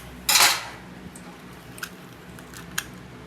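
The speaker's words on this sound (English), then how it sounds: "You just make a cut like this with the knife." A knife cuts open a giant clam shell with one short, loud crunching snap near the start, followed by a few faint clicks and taps.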